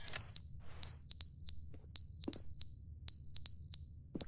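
Electronic alarm beeping in The Stanley Parable video game, repeated short high-pitched tones in bursts of two or three over a low background hum, loud and clear with no talking.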